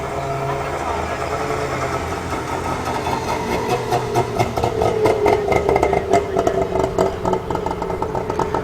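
A bull-nosed Saab with a three-cylinder two-stroke engine runs at an outdoor evening car meet, giving a steady, close, clattery idle that grows a little busier and louder midway through.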